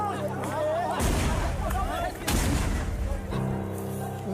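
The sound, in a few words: gunshots and bombs during police clash in Serra Pelada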